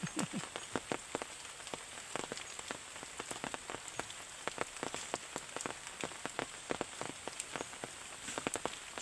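Rain falls steadily at an outdoor rural cooking spot, a continuous soft hiss dotted with sharp, irregular drips and patters striking nearby surfaces.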